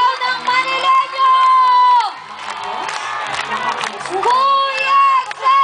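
A large crowd at a political rally in Manila shouts and cheers in loud, surging bursts. Many voices rise together, dip briefly around the middle, then swell again.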